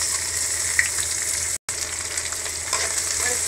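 Onions sautéing in a hot pan for vegetable pulao make a loud, continuous frying hiss, broken by one very brief dropout, with a few light scrapes of stirring and no talk.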